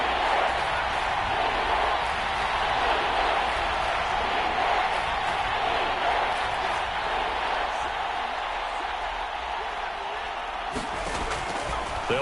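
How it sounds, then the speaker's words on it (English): Stadium crowd in a football video game roaring steadily as a big third down approaches, a dense continuous wash of cheering under commentary. "the crowd getting into it as we come up on a big 3rd down"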